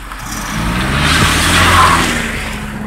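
A Honda car drives past close by, its engine and tyre noise swelling loudly to a peak and then easing off over a few seconds.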